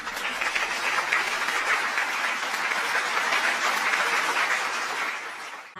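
Students in a micro-teaching classroom applaud a classmate who answered a question, a steady, dense clapping that fills the room for about five seconds before tapering off.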